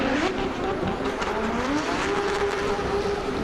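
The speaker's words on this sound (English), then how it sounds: "you can literally feel the bangs and the pops coming out of Cody Pullenbury's car" Drift car at the D1NZ Grand Final charging the wall ride, its engine howling loud and steady with a rising pitch, tyre noise and crackling exhaust bangs and pops throughout.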